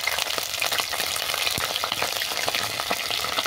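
Broccoli frying in hot mustard oil in a kadai, a steady loud crackling sizzle with scattered sharp pops throughout, no voices.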